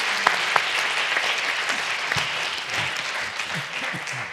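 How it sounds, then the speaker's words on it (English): Audience at a public forum in Edinburgh applauds the speakers, a steady wash of many hands clapping at moderate volume with a few sharper claps standing out and faint voices beneath. "Give a round of applause for all of the speakers."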